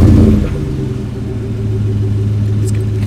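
A Chevy engine fitted with a Dyno-Max Ultra-Flo exhaust rumbles at idle, a loud, deep, steady exhaust drone after a brief rev at the start.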